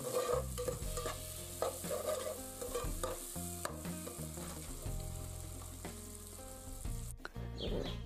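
Onions fry in a pan for a village-style dish, a steady sizzle broken by repeated scraping and stirring strokes from a utensil, close and fairly loud with no talking, ending in a sharp clatter.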